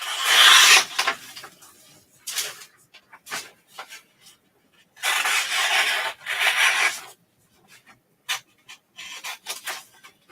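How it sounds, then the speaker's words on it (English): Paper edges trimmed from a sublimation puzzle print, a series of close, dry rasping cuts in irregular bursts of varying length separated by short quiet gaps. "So we're going to just trim off the edges."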